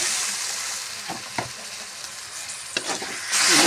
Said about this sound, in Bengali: এবার ভালো করে এটা তেলের সঙ্গে মিশিয়ে নিই।